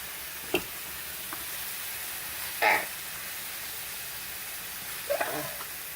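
A pan of sauce gently sizzles as demi-glace and cream are poured in for a roasted chicken pot pie, a soft steady hiss broken by a few brief clinks of a utensil.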